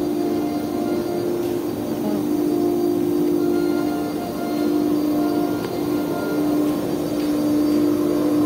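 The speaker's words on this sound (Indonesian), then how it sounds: "Mesin ukir" An engraving machine runs in a carving workshop with a steady, even mechanical hum and whir, continuous and fairly loud throughout with no talk.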